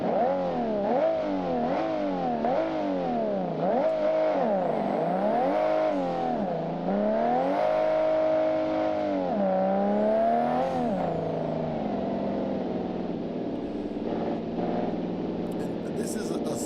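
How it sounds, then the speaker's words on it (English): A Toyota Supra built as the Fast and the Furious 10-second car revs in BeamNG on manual transmission, the engine note climbing and dropping in repeated bursts before settling into a steadier drone, loud and close throughout. "This is particularly the Supra from Fast and the Furious, the 10-second car version."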